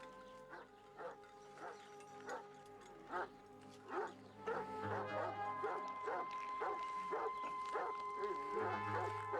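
A spooked dog barks in a steady series of sharp, fairly close yelps at roughly one-second intervals, later joined by a sustained droning tone and background activity.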